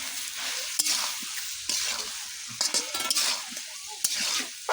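Fish sizzles and fries in a pan, with a steady crackling hiss close up and repeated scrapes and clatters of stirring over it.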